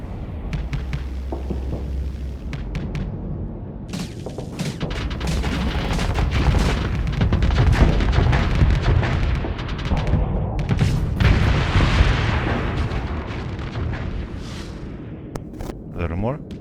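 Starship weapons fire and explosions in the space combat game Starsector, a dense run of overlapping booms, crackling shots and rumbling blasts that swells toward the middle and stays loud throughout.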